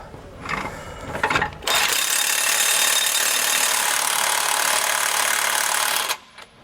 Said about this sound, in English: we're going to tighten up our hardware so that plate's nice and snug